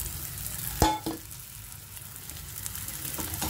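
Flour tossed into a spoonful of hot oil in a pan while cooking a ridge gourd curry: a sharp clack of a spoon against the pan, then a steady soft sizzle with a few light stirring scrapes, close and without talk.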